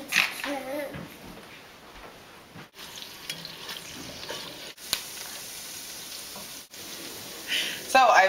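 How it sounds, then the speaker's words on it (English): Chopped onion browning in lard in a frying pan gives a steady, soft sizzle with occasional stirring scrapes. A few brief louder spikes break in near the end. "Now I'm just going to brown this onion."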